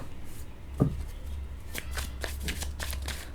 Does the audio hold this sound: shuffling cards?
yes